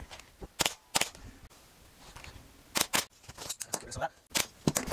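Scissors snip through upholstery fabric on a curved chair in sharp, close bursts, a few quick cuts, a pause, then another cluster of snips, with soft rustling of cloth in between.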